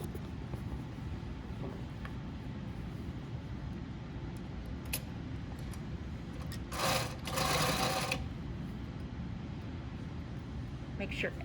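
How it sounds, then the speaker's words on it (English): Sewing machine running a 5/8-inch seam around a shirt sleeve with backstitching at each end; the steady whir surges briefly louder for about a second midway over a constant background hum. "Now I'm gonna stitch 5/8 all the way around."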